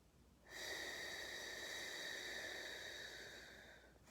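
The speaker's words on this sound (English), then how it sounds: "Exhale." A long, steady breath exhaled through the mouth during a paced four-second breathing exercise, a close, even hiss that swells quickly, holds for about three and a half seconds, then tapers off.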